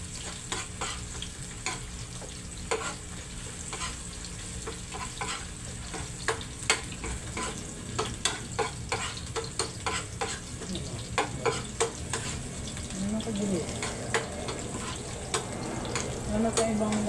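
Ground meat tipped into a pan of browned onions sizzles steadily, with scraping stirs and clatters of a utensil against the pan, loud and close, building over the whole stretch without talk.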